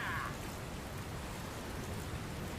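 A rainstorm in the video game Dragon Quest Builders 2 gives a steady, dense hiss of falling rain with no breaks and no talk, faint but continuous throughout.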